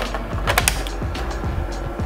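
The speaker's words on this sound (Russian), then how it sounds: "Вставляется как фильтр." A filter cartridge is pushed into a portable Airflower USB air cooler, giving a close run of plastic clicks, scrapes and ratchet-like creaks over about two seconds, with no talking.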